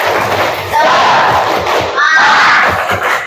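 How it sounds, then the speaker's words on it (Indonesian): A classroom of students joins in a rhythmic spirit clap together, loud overlapping thuds and chanted voices filling the room close by, in two bursts. "yuk kita bareng-bareng tepuk semangat"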